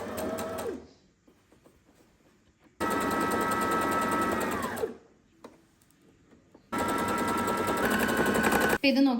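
Brother GS2700 sewing machine stitching scallop stitches, three loud sustained runs of rapid mechanical whirring separated by quiet pauses, close and alone.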